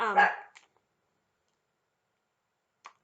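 A guard dog at home gives one loud, close bark, followed by a long silence and a single faint, brief sound near the end.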